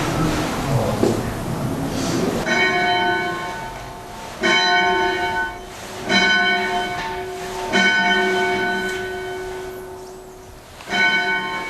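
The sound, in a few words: church bell ringing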